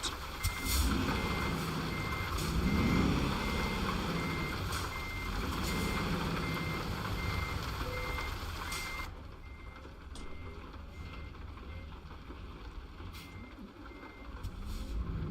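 Reversing beeper of a truck in Euro Truck Simulator 2, a repeated steady electronic beep over a loud rumbling engine drone, the engine noise dropping away after a few seconds while faint beeps and hiss continue, with no talking.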